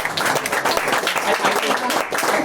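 People at a school board of trustees meeting clap together, a close, uneven burst of many hands with a few voices chattering underneath.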